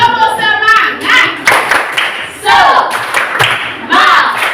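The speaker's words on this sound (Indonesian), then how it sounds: "Tepuk semangat." Schoolchildren in a classroom do a patterned clapping cheer, with bursts of loud, rhythmic hand claps in short groups and voices chanting between them.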